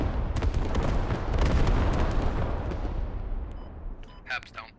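Artillery rumbles in the Squad video game, a dense, sustained roar of heavy blasts that slowly fades over several seconds, ending in faint clicks and short noises.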